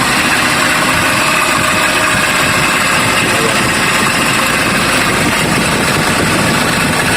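A loud, rough engine with a faulty bearing idling steadily, its uneven rumble sputtering now and then as if misfiring, with no voices.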